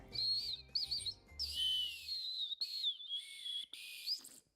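A water-filled bird whistle imitating bird calls: warbling, trilling chirps in short bursts close by, with brief gaps between them, over a low background murmur early on.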